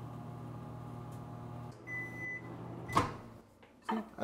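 A GE Adora microwave oven runs with a steady low hum, a brief tone midway, then a click and clatter near the end as the door or cupboard is handled.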